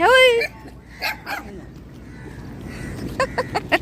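A dog gives a few short yelping barks, mixed with whimpers and voices nearby, some sharp and close.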